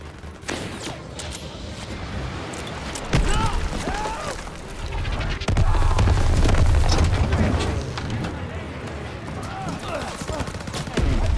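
Mortar explosions and gunfire in the Call of Duty: WWII battlefield, a steady, dense barrage of booming blasts and crackling shots that swells louder midway, with voices faintly present under the din.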